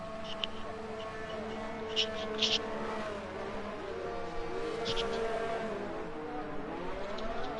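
A Ferrari race car pulls out of the pits at Azerbaijan in the F1 2019 video game, its engine whining up through rising and falling pitch sweeps under continuous commentator talk.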